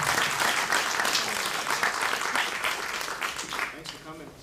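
An audience claps for a pop culture speaker at a lecture event, a full dense round of applause that holds steady, then thins and fades toward the end with a faint voice emerging.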